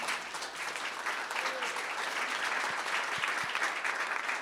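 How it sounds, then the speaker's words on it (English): Steady, full audience applause at a media panel event, a broad wash of many hands clapping continuously at moderate distance for several seconds. "Round of applause, please."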